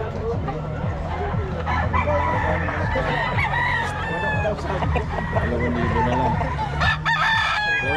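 A rooster crows loudly among clucking chickens, pigeons and other fowl, with voices chattering underneath in a busy, noisy poultry market in Bocaue.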